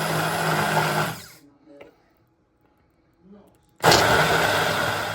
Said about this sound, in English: So now to get that handheld blender out and see what happens here.